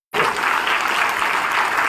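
A gathering at a party workers' meeting breaks into loud, dense applause that starts abruptly and holds steady throughout.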